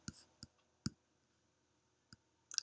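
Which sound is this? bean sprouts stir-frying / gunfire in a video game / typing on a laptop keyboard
typing on a laptop keyboard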